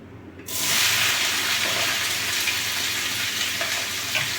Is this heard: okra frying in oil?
yes